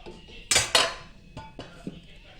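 A metal pan clanks down onto a stovetop with two sharp, close clatters, followed by a few lighter metallic taps in a quiet room.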